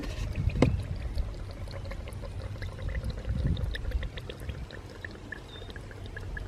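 Coolant gurgles inside a motorcycle radiator newly fitted with a radiator guard: a soft, continuous bubbling and trickling of liquid, fairly faint and close, with no voices.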